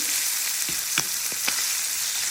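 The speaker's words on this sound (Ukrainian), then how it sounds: "і будемо смажити саме на топленому маслі" Chicken liver dusted with a little starch frying in ghee in a pan, a steady close sizzle with a few sharp clicks and scrapes from stirring, no voices.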